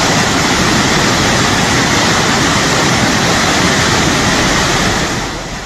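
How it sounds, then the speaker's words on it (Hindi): Floodwater rushing down a hillside into a four-lane highway tunnel, carrying debris and rainwater: a loud, steady roar of rushing water with no break, fading slightly at the very end. "सैलाब किस तरह से पहाड़ी से नीचे आ रहा है और टनल के अंदर मलबा और बारिश का पानी भर रहा है"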